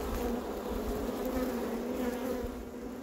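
A late honeybee swarm newly housed in a two-hive setup buzzes steadily and densely throughout, a close, continuous hum with no voices.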